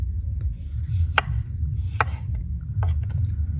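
An onion being chopped with a knife on a board during home cooking: three sharp, separate chops spaced about a second apart over a steady low background rumble.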